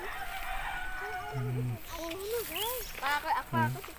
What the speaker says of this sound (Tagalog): Yo, may bird oh